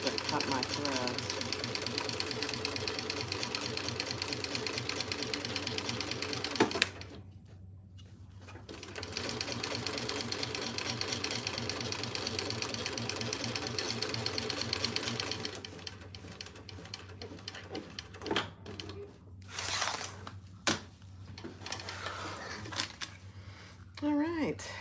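Sewing machine stitching fabric for a divided basket, fast rattling runs of stitches near and loud, stopping briefly around seven seconds, then short bursts and pauses toward the end with someone talking between them.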